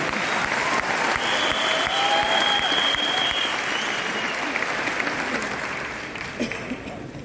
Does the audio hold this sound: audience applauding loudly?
yes